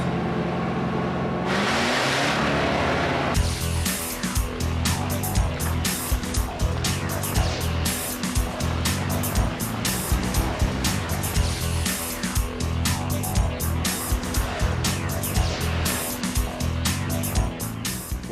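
A heavy off-road vehicle engine labours through mud on a rough course, a loud, continuous throbbing drone with repeated revving surges that stays close and dominant throughout, with no talk over it.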